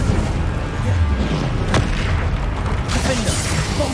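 A Bombarda blasting spell explodes in Hogwarts Legacy, a deep booming blast with a sharp crack near the middle, loud and close over a rumbling low background.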